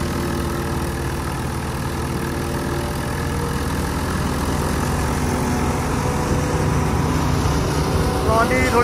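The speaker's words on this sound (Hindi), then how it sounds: "रीपर बहुत ज्यादा आरपीएम पे चल रहा" A Swaraj 855 tractor drives a KS reaper at high revs, a loud, continuous, close engine roar with a steady mechanical drone and no letup.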